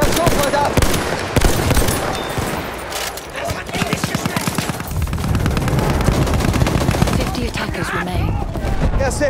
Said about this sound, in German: Das ist ein feindlicher Schuss